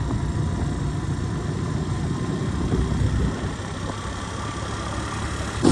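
A fully loaded motorcycle carrying food and cement rides toward a farmhouse, its mid-pitched engine droning steadily and close with road rumble and vibration throughout, rising slightly near the end.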